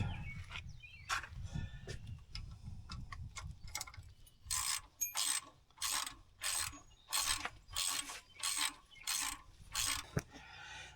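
Bolts coming out of the radiator on a John Deere 5300 tractor, first irregular clicks, then a close ratchet wrench cranking in even repeated bursts, about six strokes in a row, with no talking.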